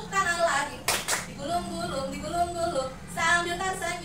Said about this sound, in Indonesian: Buka tutup, bertepuk tangan.